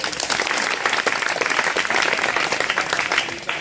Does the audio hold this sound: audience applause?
yes